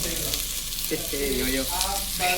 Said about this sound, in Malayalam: അടുത്തത് ഇവിടെ സവോള വരട്ടുന്നു.